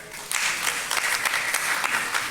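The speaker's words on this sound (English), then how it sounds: "Can we clap for her?" An audience at an education conference in Accra claps steadily for a couple of seconds, a dense patter of applause in a room, with no talking over it.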